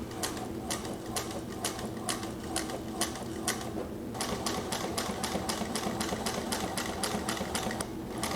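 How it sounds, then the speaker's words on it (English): A Juki 1541 industrial sewing machine runs a test seam after a hook-timing repair, its needle thumping in a fast, steady mechanical rhythm that pauses briefly and restarts, loud and close with no talk. "test your machine out. It should sew more quietly, more smoothly, and form a nice balanced stitch."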